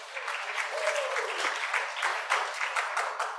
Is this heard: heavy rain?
no